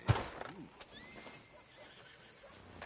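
A horse in the Western video game Red Dead Redemption gives a short, loud whinny near the start, followed by quieter snorts and faint hoof clops.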